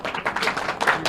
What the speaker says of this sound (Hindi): एक बार ताली बजा के आप लोग स्वागत करें